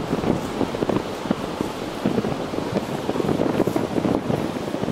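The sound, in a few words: strong wind blowing on a beach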